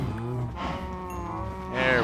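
Cows moo in the Minecraft video game, with a drawn-out low call early on and another near the end. Both are close and clear over quiet background sound.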